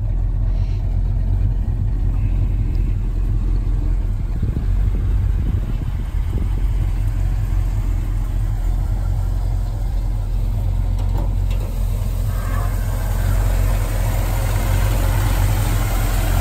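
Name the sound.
1965 Ford Mustang Fastback engine idling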